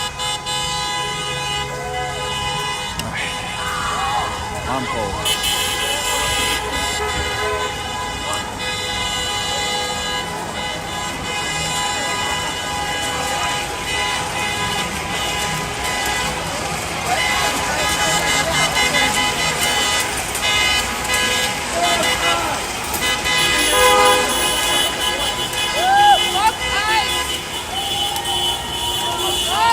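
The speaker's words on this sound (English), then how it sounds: "cars honking in support." Car horns honk repeatedly in support of a street protest in Minneapolis, Minnesota, long blaring tones and short toots layered over traffic rumble and crowd noise, with someone briefly speaking close by.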